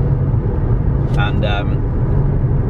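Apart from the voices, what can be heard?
car driving on a long road trip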